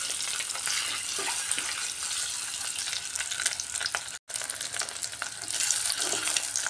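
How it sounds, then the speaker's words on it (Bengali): Eggs frying crisp in hot oil for Bengali egg kosa, a loud continuous sizzle and crackle close up, with a brief cut to silence midway before the frying resumes. "একটু কড়া করে ভাজবো, যেহেতু এটা ডিম কষা বানাচ্ছি।"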